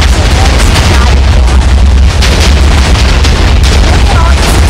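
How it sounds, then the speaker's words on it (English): TNT blocks detonating in Minecraft next to a tall glass tower, a loud continuous barrage of overlapping booms and blasts with heavy low rumble, packed close together for the whole stretch. "Look at all these explosions."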